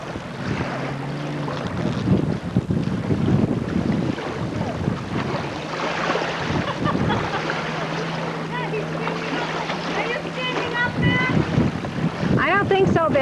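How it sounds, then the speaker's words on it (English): Steady wind gusting across a microphone on a boat out on open water during a 1997 family vacation, with a low motor hum underneath and voices speaking at times. "Good wind. The water."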